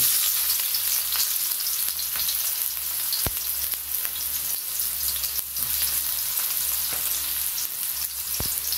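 Chopped onion dropped into heated cooking oil for a Filipino squash and sponge gourd dish, a steady loud sizzle and crackle throughout, with a couple of sharp utensil clicks and no talking.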